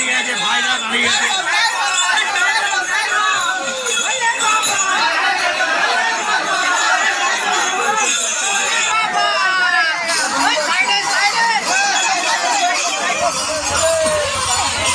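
A dense crowd of pilgrims presses across a railway crossing during a Shiva devotional procession in Kolkata, with loud continuous chatter and overlapping voices throughout, people talking on all sides.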